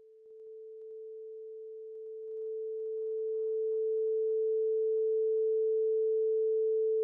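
A pure sine tone generated in MaxMSP holds steady and unbroken, fading in at the start and then sustaining at an even level throughout.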